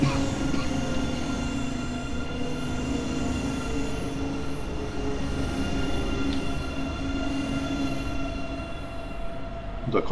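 BR 403 train accelerating in Train Sim World 5: a steady rumble of wheels on rail with a sustained high squeal and drone that runs without a break, with a voice talking over it.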